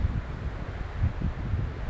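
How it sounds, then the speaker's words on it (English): Low rumbling easterly wind blowing down a valley in winter Fiordland buffets the microphone steadily, a dull roaring gust with no voices. "It's a bit windy though."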